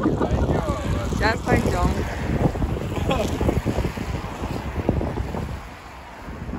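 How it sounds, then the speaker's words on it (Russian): Strong wind gusts across a riverside embankment on the Neva in St Petersburg, a steady low rumbling buffet against the microphone throughout, with people talking over it. "Но это прям очень дует."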